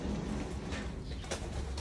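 Pet birds kept by a home breeder give soft cooing calls. The coos are faint and muffled, with a few short bursts over a steady background hiss and no talking.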